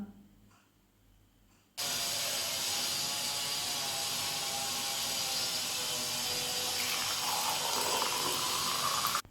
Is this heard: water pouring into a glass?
yes